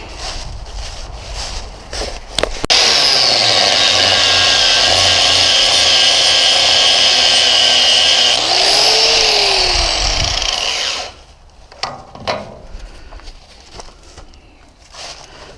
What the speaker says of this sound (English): go grab my angle grinder so we can get some clean metal